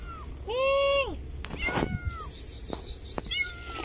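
A white cat meows several times outdoors, a loud drawn-out call followed by shorter meows, with some people talking in between and faint background noise.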